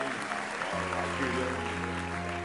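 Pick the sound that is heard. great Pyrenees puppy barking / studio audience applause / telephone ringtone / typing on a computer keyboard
studio audience applause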